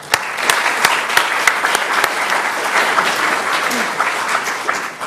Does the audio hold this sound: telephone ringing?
no